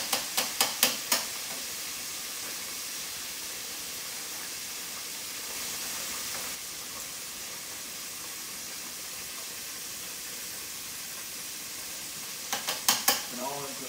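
Breaded chicken steak fries in hot oil with a steady, loud sizzle and hiss throughout, broken by a few sharp crackles and pops near the start and again near the end.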